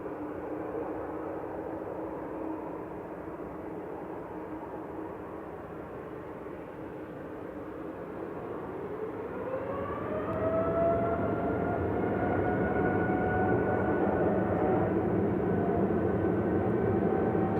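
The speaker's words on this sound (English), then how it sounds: "Qatar flight 24 heading back to Doha now" A Qatar Airways jet heading to Doha climbs out of Manchester Airport, its steady engine roar swelling louder partway through as a rising whine sets in, heard at a distance with no voices.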